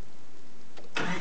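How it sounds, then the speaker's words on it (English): A vehicle engine with freshly cleaned injectors fires up from cold, a brief crank followed by a loud, close burst of running engine noise at the very end. "It's a cold start, look at that."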